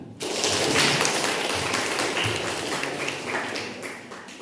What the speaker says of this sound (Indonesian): Pertanyaan dari kelompok 2 kita berikan tepuk tangan.